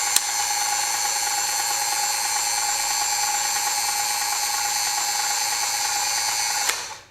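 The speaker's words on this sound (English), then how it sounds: "It does have a speed selector here. Here is full speed" A Ryobi One+ cordless caulk gun motor runs at full speed, producing a loud, steady high-pitched whine close up that holds evenly for about seven seconds and then cuts off abruptly.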